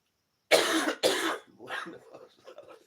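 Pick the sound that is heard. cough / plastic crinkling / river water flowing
cough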